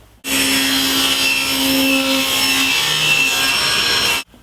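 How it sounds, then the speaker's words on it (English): A SawStop table saw makes a rip cut in a flat pine board, a close, loud whirring cut that starts abruptly, holds steady with a slight pitch shift, then stops cleanly about four seconds later. "I've got a relatively flat piece of pine wood, and we're ready to make that rip cut."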